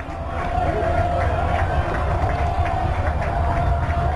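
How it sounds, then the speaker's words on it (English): A high school football crowd at a Notre Dame Academy vs Sheboygan South game builds a steady, loud roar of cheering and noise during a fourth-down play, a continuous dense wash of sound with no pauses. "Triton crowd really starting to get into it now."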